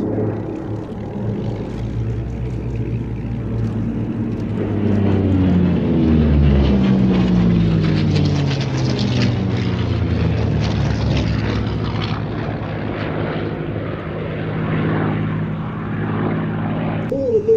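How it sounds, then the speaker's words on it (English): Propeller warbirds, a P-38, a P-51 and a Corsair, fly a three-ship tail chase at Sywell Airshow 2024, their piston engines droning and swelling as they pass nearby, then fading over about seventeen seconds. "Now we've just gone into a three-ship lead, led by the P-38, followed by the P-51 and the Corsair for a beautiful three-ship tail chase."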